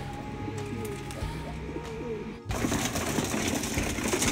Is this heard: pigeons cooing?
yes